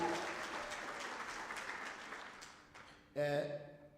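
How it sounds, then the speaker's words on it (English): Applause at a conference, a dense wash of clapping that fades out, followed by a brief burst of voice at the end. "One more applause for Dr. Ramolodi."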